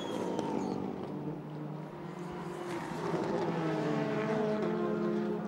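WTCC touring cars racing at Suzuka, among them James Thompson's Lada, with engines droning loud and continuous, pitch rising and falling as they run close together.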